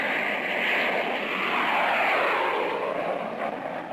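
Commercial jet airliner engines with no propellers, a loud continuous broadband roar that holds steady and slowly shifts in tone as the aircraft passes, with no talk.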